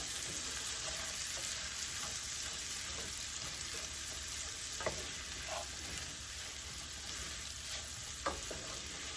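Onions seasoned with salt fry in a pan, cooking down with a constant close sizzle and an occasional light scrape or tap of a utensil.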